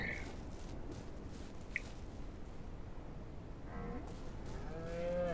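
Cattle on a working ranch, including pregnant cows, give a few moos, drawn-out lowing calls toward the end, fairly faint against quiet outdoor background with occasional soft squishy movement.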